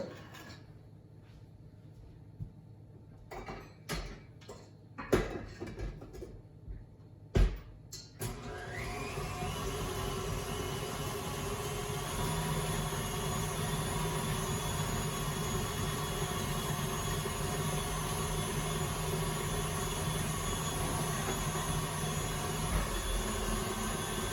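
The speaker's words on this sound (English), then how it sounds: "And then we're gonna take this back to our mixer and mix it up again." An electric mixer beating cookie dough for peanut butter blossoms switches on after a few scattered clunks and taps, then runs as a loud, steady whirring drone for the rest of the stretch.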